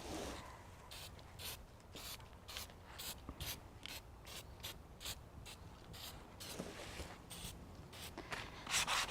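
A hand or cloth rubs paint into garden decor, giving a steady, faint scratchy scrubbing with short repeated strokes and no talk.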